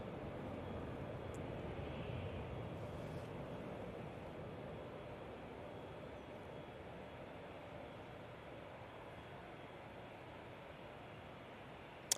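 A plane departing from an intersection at Manchester Airport gives a steady, broadband engine roar that fills the whole stretch and slowly eases as it climbs away. There is no talk.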